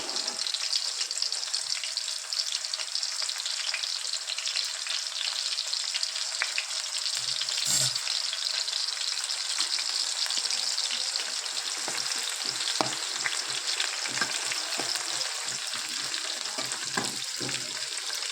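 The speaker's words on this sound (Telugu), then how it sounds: "ఇప్పుడు ఆయిల్ వేడెక్కింది. ఇందులో ఆనియన్స్ యాడ్ చేసుకుందాం." Onions frying in hot oil in a kadai for chicken biryani, a loud, steady, close sizzle with occasional stirring clicks running throughout.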